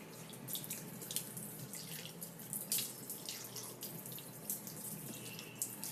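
Water runs steadily from a tap into a sink while a face is washed, a soft continuous splash with faint irregular drips and slaps.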